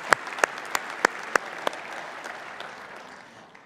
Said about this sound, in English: Give them a warm round of applause